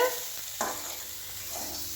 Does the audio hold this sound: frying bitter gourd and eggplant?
yes